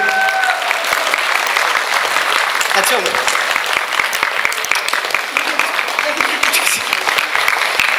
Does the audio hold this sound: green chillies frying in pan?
no